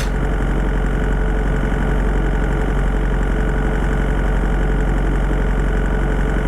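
A truck engine idles in a video game convoy, a loud, steady, continuous rumble with a rapid knocking pulse that repeats as a loop.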